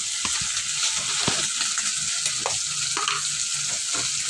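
Potatoes and corned beef fry in hot oil, giving a loud, constant sizzle with scattered pops and splatters and occasional stirring scrapes.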